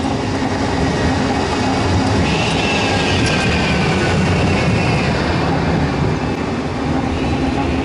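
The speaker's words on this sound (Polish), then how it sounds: "Środkiem tramwaje jeżdżą." A heavy tram rolls past close by along the middle of a street in Katowice-Szopienice, Poland, with a continuous low roar and faint metallic squeals over it, steady throughout.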